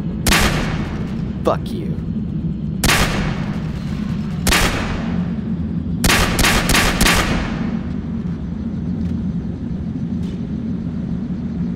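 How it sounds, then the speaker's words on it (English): Small arms gunfire aimed at an armored helicopter in Call of Duty 4, heard as sharp separate shots and a quick burst of several rounds over a steady low engine rumble, with a brief spoken outburst. "Are they seriously firing small arms at a fucking armored helo?"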